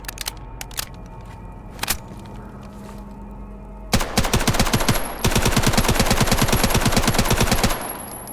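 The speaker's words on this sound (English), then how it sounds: "This is a lower RPM gun." A low-rate automatic gun fires in Stalker Gamma: a few scattered shots at first, then two long, loud bursts with evenly spaced, fairly slow rounds before the firing stops.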